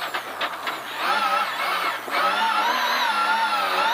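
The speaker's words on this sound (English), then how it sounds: "Anti-clockwise donut." A Ford Escort rally car on a stage of the Aberystwyth Rali Ceredigion spins an anti-clockwise donut, its engine revving hard and loud from inside the car, pitch rising and wavering steadily with no talk.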